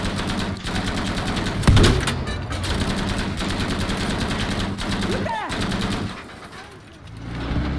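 Dense, continuous gunfire and explosions in Battlefield V, loud and constant with a heavy boom, easing briefly before picking up again.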